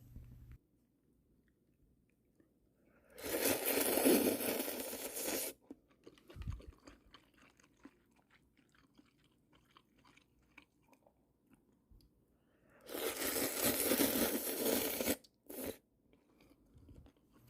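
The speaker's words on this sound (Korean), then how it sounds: "자, 이제 라면 한번 먹어볼까요?" Spam kimchi ramen is eaten in two loud bursts of close crunching and chewing separated by quiet stretches.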